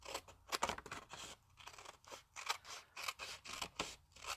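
Scissors snipping around a paper envelope flap on a handmade card, a quick series of close, crisp cuts with short pauses between them.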